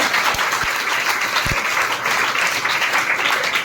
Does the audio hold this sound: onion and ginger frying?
no